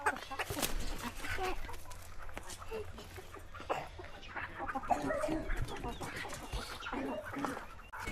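Hens clucking in a busy yard beside a chicken shed, a steady jumble of short calls with people talking nearby.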